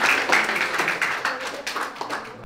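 An audience applauds, a short burst of brisk clapping that tapers off over a couple of seconds.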